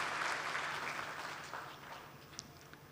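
Audience in a hall clapping at an all-India Hindi poetry recital, a soft, fairly distant patter of applause that gradually thins and fades out, with a few isolated claps near the end.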